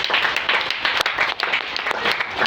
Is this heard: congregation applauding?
yes